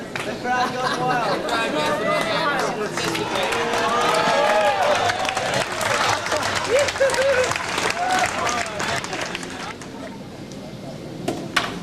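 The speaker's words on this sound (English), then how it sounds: "The crowd goes wild." Spectators at a 1986 Vancouver skateboard contest cheer and applaud loudly, a dense wash of clapping and whoops with scattered shouts and chatter that swells midway and tapers toward the end.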